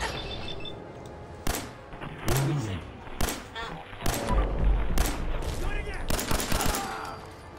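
Gunfire aimed at the player in the Fallout 4 video game: loud, close bursts of repeated shots and rattling volleys spread across the clip, mixed with game ambience.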